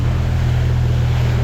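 A supercharged Yamaha WaveRunner engine drones steadily out on a lake, a loud constant low hum mixed with wind and water rush, with no break across the short stretch.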